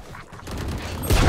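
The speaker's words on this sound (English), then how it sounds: "They shot my wingman." Gunfire in the Valorant video game as enemies shoot at a Wingman, a dense burst of rapid shots that swells louder and closer toward the end.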